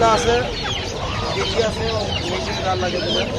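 Chickens cluck and squawk in a crowded poultry market at Kaptan Bazar, a dense, continuous racket of many birds close by, with someone talking over it.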